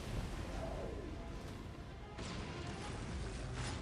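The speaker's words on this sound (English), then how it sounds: "the Basilisk is still firing away at them" Basilisk artillery pounding away in a Dawn of War Soulstorm battle between Imperial Guard and Tau, heard as a dense rumbling wash of explosions and crashes with a sharper blast partway through, no voices.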